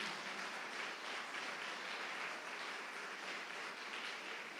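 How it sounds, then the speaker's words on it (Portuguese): A church congregation applauds together, a steady wash of clapping that stays fairly soft and even throughout, with no voices rising above it. "Vamos dar uma salva de palmas para Jesus."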